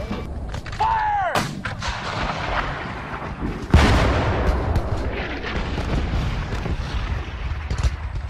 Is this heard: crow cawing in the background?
no